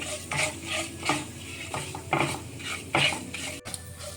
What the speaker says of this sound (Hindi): इसको थोड़ा खुशबू आने तक भून लेंगे